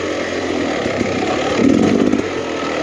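A 2023 Beta Xtrainer 300 two-stroke enduro motorcycle runs along single track with a steady, loud, buzzing engine drone close by, rising briefly in intensity near the end.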